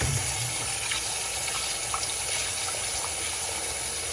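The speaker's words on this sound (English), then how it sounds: "I'll catch some water in the sink like so" Tap water pours steadily into a kitchen sink, a loud, even rushing stream with no pauses, heard close up and alone.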